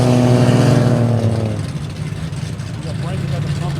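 Roll racing cars, including an LS turbo entry, accelerate hard at a Sydney roll racing nationals event, with loud engine roar that fades to a steady rumble under an excited commentator's voice.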